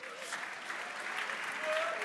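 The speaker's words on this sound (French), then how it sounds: "on peut applaudir la VP s'il vous plaît" Faint applause from an audience at a round-table gathering, a soft continuous patter of clapping heard from a distance with murmuring voices underneath.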